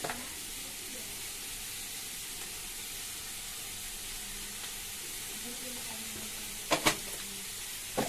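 Shredded cabbage fries in a pan with turmeric and salt, a soft steady sizzle running throughout, broken near the end by a couple of sharp clanks of a spoon against the pan, with a voice talking quietly over it.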